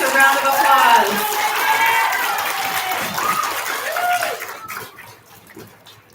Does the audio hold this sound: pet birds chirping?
no